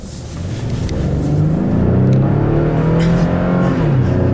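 A 2015 Chevrolet Colorado Z71 pickup with a 3.5-liter V6 on a back road, the engine droning steadily as it accelerates and holds speed, loud and close from inside the cab with road noise underneath.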